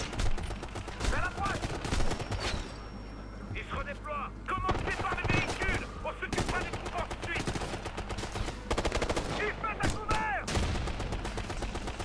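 Assault rifle and machine gun fire ring out in Ghost Recon: Future Soldier, loud rapid bursts and single sharp shots in irregular clusters throughout, with quieter pauses between volleys and occasional voices underneath.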